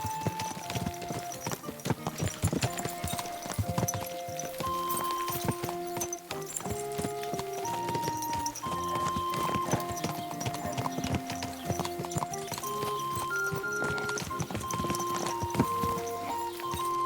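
Horse hooves clip-clop at a steady walking pace in Kingdom Come Deliverance 2, a rhythmic, moderately close clatter beneath a running melodic music score, with no voices.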